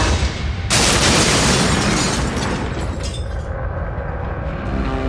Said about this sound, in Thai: พอเอียงตัวนิดนึงก็ระเบิดตู้มขึ้นมา